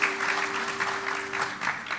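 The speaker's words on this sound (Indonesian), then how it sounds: "Bisa tepuk tangan buat Tuhan Yesus yang luar biasa" Clapping from a congregation during an anniversary church service, a brief, even patter of many hands over a low sustained tone, fairly soft and steady.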